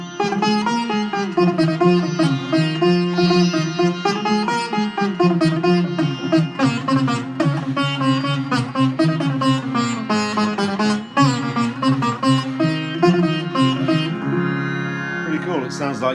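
Sitar run through an Electro Harmonix Nano POG octave pedal with octaves blended below the dry signal, a continuous loud melodic phrase of twangy plucked notes with a thick, bass-doubled tone throughout.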